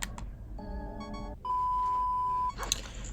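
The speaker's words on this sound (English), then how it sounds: "we are going to have to deal with the beeping for a little bit longer" Electronic tones sound in the Majora's Mask video game while the player is low on health: short stepped bleeps, then a long sustained beep, then a few brief chirps, clear with no talk over them.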